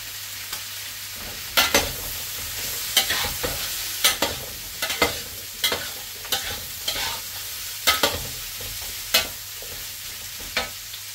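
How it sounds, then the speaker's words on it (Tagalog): Ingredients and chicken innards sautéing in a little oil in a pan for tinola, a steady soft sizzle punctuated by sharp, irregular clanks of a spatula or ladle stirring against the pan, close and alone with no voices. "Igisa na rin natin ito dito."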